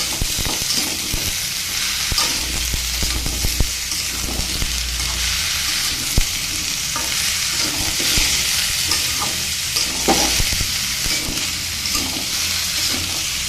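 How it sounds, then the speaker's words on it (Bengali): Pointed gourd, radish and pumpkin pieces sizzling steadily in a pan while being fried, with occasional stirring scrapes and clinks over the continuous close hiss. "সবজিটাকে আমি বেশ অনেকটা সময় ধরে ভাজতেছিলাম আরও একটু ভাজব"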